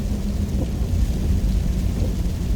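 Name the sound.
pouring rain and thunder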